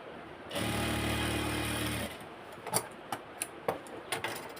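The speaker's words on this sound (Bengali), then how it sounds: "এটাই ভাঁজ করে দিয়ে এই যে সেলাই দিয়ে দিচ্ছি একবার একটা" A sewing machine runs a short line of stitching on folded piping for a half-band collar, a loud burst of about a second and a half, then a few sharp clicks and taps of handling.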